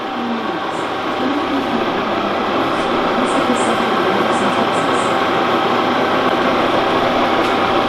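A lathe starts up in low gear, its slowest speed of about 13 revolutions, and spins with a steady, loud mechanical whir and hum that holds continuously throughout.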